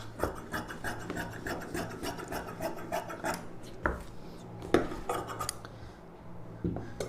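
Blouse fabric being cut, heard as soft rasping snips and rubbing strokes of the blade through cloth, close and quiet with a few sharper clicks and no speech.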